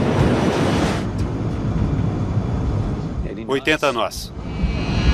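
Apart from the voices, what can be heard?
Douglas DC-8 jet accelerating for takeoff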